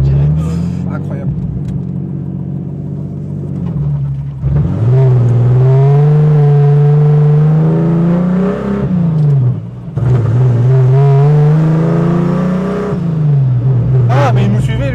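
A turbocharged BMW E36 pulls hard up a mountain road, its engine droning loud and close with rising pitch through two long acceleration runs, a brief lift between them, and voices talking over it.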